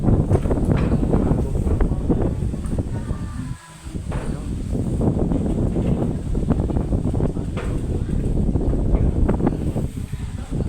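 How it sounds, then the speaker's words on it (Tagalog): Steady, heavy wind roaring against the microphone in continuous gusts during rain at Caliraya, Lumban, Laguna, with a low rumbling buffet throughout and no voices. "Malakas ang hangin, malakas din ang ulan."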